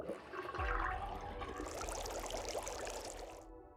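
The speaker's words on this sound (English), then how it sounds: "Now the sink on the left is making noise." Water rushes and gurgles down an unplugged sink drain in the puzzle game Zero Time Dilemma, a close continuous flow that cuts off abruptly at the end, with no speech.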